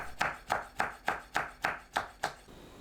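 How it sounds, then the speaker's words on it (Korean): A knife slices Cheongyang and red chili peppers thinly on a cutting board, seven crisp evenly spaced chops in a quick steady rhythm, close and clear with no talking. "청양고추, 홍고추를 둥글고 얇게 썰어줍니다."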